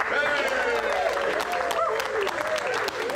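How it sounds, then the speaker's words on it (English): A crowd applauds steadily throughout, with cheers and whoops rising above the dense clapping. "would you please give a cheer for our judges?"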